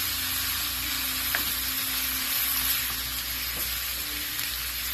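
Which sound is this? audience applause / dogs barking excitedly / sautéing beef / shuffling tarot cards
sautéing beef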